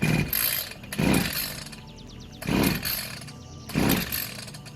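A small engine on a cheap imported pesticide sprayer is cranked over and over without catching. Four rough, roaring bursts rise and fade at regular intervals, close and loud, with a faint squeaky rattle between pulls.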